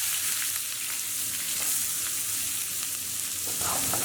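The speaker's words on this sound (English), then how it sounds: "Now we'll add our onions straight in." Onions fry in a hot pan for Persian prawn rice, giving a dense, constant sizzle with faint stirring scrapes, close and unbroken by speech.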